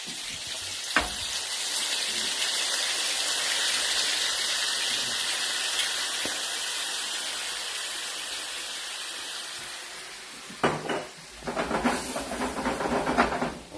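Wine sizzles and steams loudly in a hot pan with chicken saltimbocca, a steady close hiss that eases off before stirring and clatter break in near the end.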